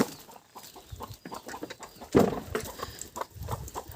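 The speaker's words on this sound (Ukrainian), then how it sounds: "Там верещать курчата" Chicks and poultry squawk and cheep in a noisy flurry nearby, with a louder burst of screeching midway and rustling underneath.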